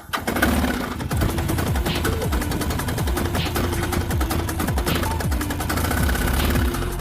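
A motorcycle engine started from a connected starter on the battery runs with a rough, rapid, popping idle, loud and close, its uneven firing continuing steadily.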